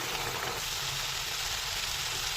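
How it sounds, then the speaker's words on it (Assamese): Spiced oil and masala frying with boiled chickpeas and potatoes, a steady close hiss and sizzle running without a break, no voices over it. "এই মোৰ মছলাখিনি ভজা হৈ গ'ল এতিয়া ইয়াতে মই এতিয়া বইল কৰা বুট আৰু আলুখিনি দি দিছোঁ"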